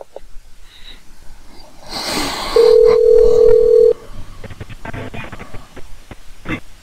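A steady electronic phone tone sounds for about a second and a half after a call is hung up, set among faint breathing and rustling handset noise.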